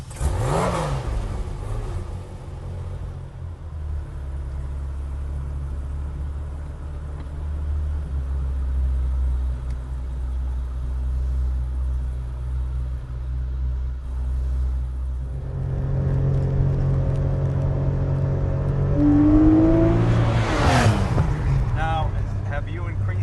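A Singer-built Porsche 911 with a 3.8 engine pulls hard during a ride, a steady mid-pitched drone rising into a sharp rev climb near the end, heard from inside the cabin.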